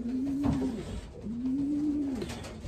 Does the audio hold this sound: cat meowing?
no